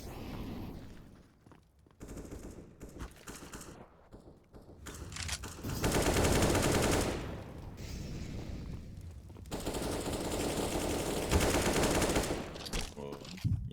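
Rifle fire rattles in quick bursts during a Counter-Strike round on Dust2, fairly faint and mixed under a commentator's ongoing talk.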